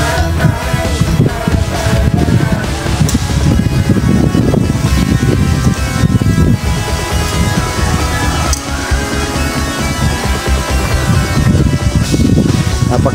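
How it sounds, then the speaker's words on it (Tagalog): Strong wind at a beach in San Juan, Batangas buffets the microphone with loud, continuous low roaring and rumble throughout, steady with brief swells and no clear speech. "Mahangin talaga."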